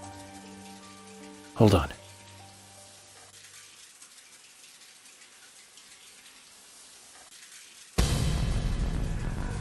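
A shower starts running in a bathroom in Deadly Premonition, a sudden steady broadband hiss of falling water after a quiet stretch. Earlier, a short musical sting sounds, and a voice speaks briefly.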